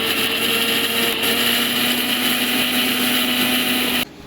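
An electric blender grinding white sesame seeds and ginger with water, a loud steady close whine that runs unbroken for about four seconds, then cuts off abruptly.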